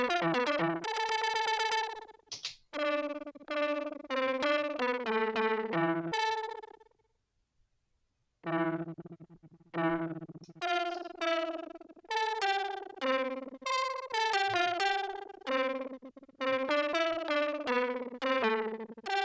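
Arturia MicroFreak synthesizer patch run through distortion, playing a busy run of choppy, buzzing notes with a short gap near the middle, loud and alone with no talk.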